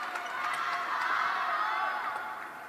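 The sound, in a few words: crowd cheering at table tennis match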